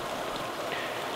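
Water pumped out of the end holes of septic system lateral runs splashes and trickles in a faint, steady outdoor patter, like light rain on a surface, with no voices.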